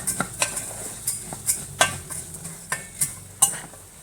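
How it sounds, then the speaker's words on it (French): Coral lentils with carrots, oil and spices get stirred in a pan, a spoon scraping in a steady rhythm of sharp strokes about every third of a second over a light sizzle. "on mélange pour enrober un petit peu tous les ingrédients d'huile et d'épices"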